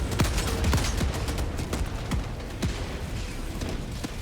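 Heavy mounted gun firing in a video game battle, a dense, loud barrage of rapid shots and booms with no pause.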